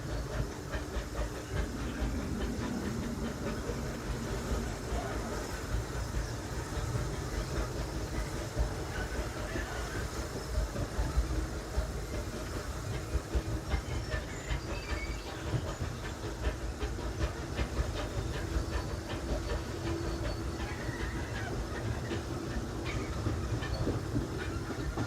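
The Big Thunder Mountain mining train ride at Disneyland, a steady loud rumble of rolling cars with rattling clacks and hissing, heard up close for the full length without talk.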